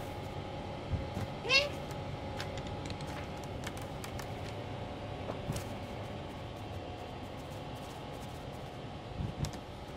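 In the video game Stray, a cat gives a short meow over a steady low hum and faint clicking from gameplay, with a couple of softer cat sounds later on; no talk.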